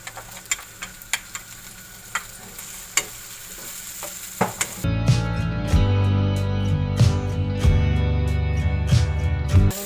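Potatoes and ground ginger-garlic paste go into a hot pot with peas, starting with scattered clicks and taps, then a sudden loud, steady sizzle and frying once they hit the oil, with stirring clatter over it.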